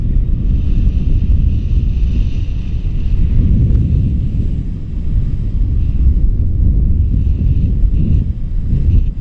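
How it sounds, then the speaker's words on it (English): Strong wind buffets the microphone during a paragliding flight, a loud continuous low roar with no talk. "this wind's so strong"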